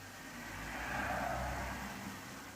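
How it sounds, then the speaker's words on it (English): Road traffic passing nearby, a broad steady engine rumble and whir that swells toward the middle and eases off, with no voices. "the traffic noises you might hear"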